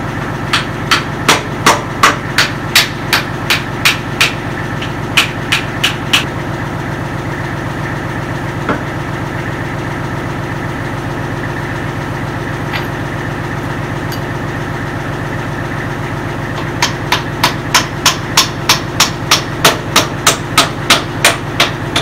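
Sharp metallic hammer strikes drive a pin into a backhoe hydraulic ram in rapid bursts of about a dozen blows, pausing midway, all over a steady diesel engine idle close by.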